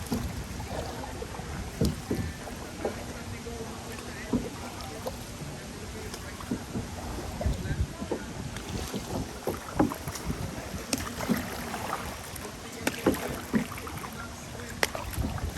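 Canoe paddling during a race at the Polynesian Cultural Center, with repeated irregular splashes and strokes over steady wind and water noise outdoors, and no talk.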